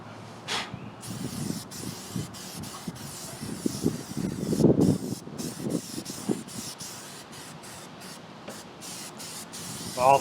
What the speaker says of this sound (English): Try not to spray the engine too much.